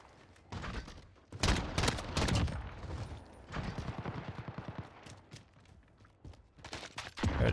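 Desert Eagle pistol fire in the shooter game Modern Warfare: loud, close bursts of gunshots in clustered volleys with short gaps, mixed with more distant rattling gunfire.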